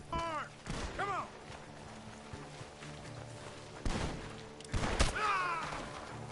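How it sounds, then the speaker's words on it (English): Gunfire bursts from a barn in Red Dead Redemption 2, several sharp shots around 1, 4 and 5 seconds over a low game ambience, with shouting voices in between. "The gunshots are coming from that barn!"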